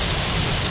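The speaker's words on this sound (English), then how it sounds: "It is, as you can see, raining quite severely" Heavy rain pounding down during a Midwestern thunderstorm while driving, a loud, dense, unbroken hiss of downpour filling the whole moment, with no voices.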